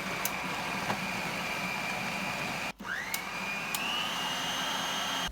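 An electric food chopper whirs steadily as it chops spring onions and other ingredients for besan chilla, with a brief pause and a rising pitch when the motor restarts.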